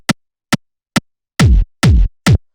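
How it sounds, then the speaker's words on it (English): Hard-hitting industrial hard techno kick drum sample with a long, massive transient and a fat bassy body, heard alone: three short clicky hits, then three longer booming kicks. "this is the type of kick you want, just like this super hard-hitting, punchy"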